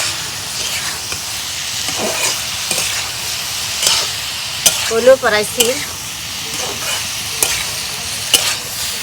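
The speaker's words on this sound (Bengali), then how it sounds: "সেই হিসেবে আমি বারবারে নাড়া দিতেছি" Beans and new potatoes frying in oil in a pan over an earthen stove, stirred repeatedly with scraping strokes over a steady sizzle, while a voice speaks briefly in the middle.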